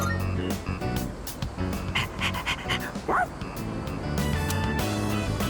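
A stray dog in the video game Persona 3 Reload barks repeatedly in short yips and bow-wows over the game's background music, with some panting and whimpering.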